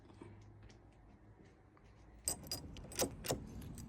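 Keys jangle close by in a few bright metallic bursts, starting quietly then shaking several times over a low background hum.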